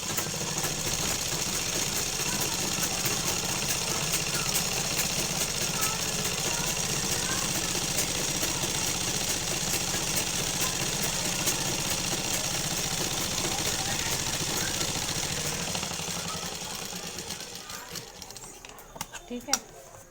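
A sewing machine runs steadily for about sixteen seconds during a Hindi home tailoring lesson on stitching children's shorts, a continuous whirring drone that fades out near the end with a few small clicks.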